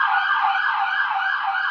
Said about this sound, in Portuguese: tá passando uma ambulância